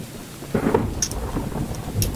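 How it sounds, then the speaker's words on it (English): Steady rain hisses in the video game Choo-Choo Charles while a deep roll of thunder rumbles in, loud and close, over the constant downpour. "God, is it gonna rain the entire time?"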